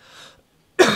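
A single sharp cough bursts out close to the microphone near the end, loud and abrupt, following a stretch of faint background murmur and near silence.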